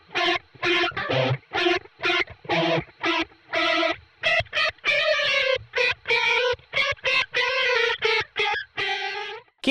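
Electric guitar run through a Line 6 Helix for a horror tone, with modulation placed before the gain stages and a cavernous Ganymede reverb, giving a distorted, wavering, cat-like wail in choppy repeated phrases that fill the clip alone.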